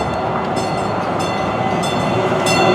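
A train in Denver, Colorado rumbling loud and steady close by, a continuous rolling roar with faint rhythmic clacks and no voices over it.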